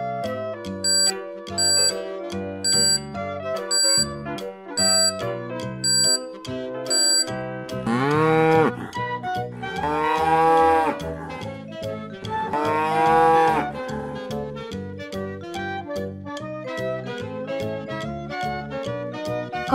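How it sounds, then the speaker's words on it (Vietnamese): A cartoonish bull moos three times in long, loud, drawn-out calls over a bouncy children's tune with bell-like chimes, the music carrying on before and after the lowing. "Con bò húc."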